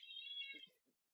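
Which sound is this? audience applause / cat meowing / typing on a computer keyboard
cat meowing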